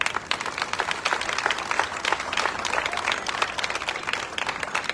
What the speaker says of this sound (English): So please give all them a big round of applause.